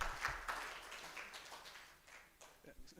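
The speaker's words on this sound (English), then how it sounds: "Please give him a big hand clap as he comes." Audience at a formal report presentation clapping to welcome a presenter, a fairly faint, scattered round of applause that tapers off.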